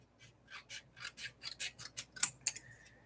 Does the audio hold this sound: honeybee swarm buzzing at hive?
no